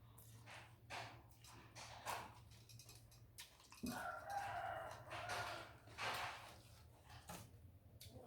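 A rooster crows in the distance, repeating over a low steady hum, with a few other faint bird calls scattered around.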